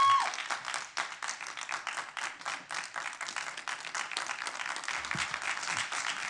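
Audience applause fills a council meeting chamber, steady dense clapping from many people at moderate distance, continuing throughout without voices.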